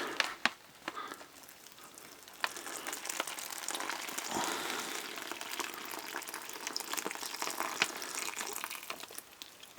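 Hot water pours steadily into a chicken teriyaki with rice emergency food pouch for several seconds, a close, hissing liquid rush that grows fuller and louder as it goes.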